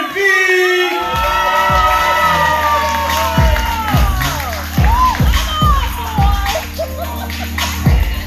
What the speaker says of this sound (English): Give a huge round of applause for Warren B.